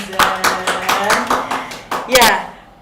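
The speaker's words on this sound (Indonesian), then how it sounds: "Boleh silakan tepuk tangan dulu netizen." A handful of people clapping on an Indonesian talk show about village planning, a few loose rhythmic hand claps mixed with speech and laughter, close and brief.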